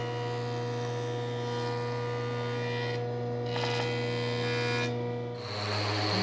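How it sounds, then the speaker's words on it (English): A woodworking jointer with its fence tilted back 10 degrees planes the edge of a board for a podium book stand. A steady motor hum runs throughout, with brief cutting swells as the board passes the knives. "I'm just going to tilt my joiner fence back at 10 degrees and pass it over"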